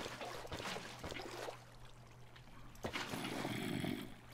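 Water flowing in the video game Minecraft, a soft pouring trickle at low level with a few brief splashy swells, and no voices over it.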